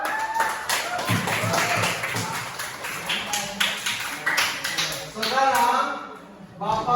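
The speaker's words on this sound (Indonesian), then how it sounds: "kalian sudah semuanya tepuk tangan dulu" Students in a classroom clap in scattered bursts while a teacher keeps talking over them, the claps uneven and moderately close.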